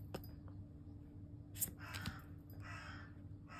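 A crow caws outside a window, a few faint, rough calls set against a low, quiet room hum.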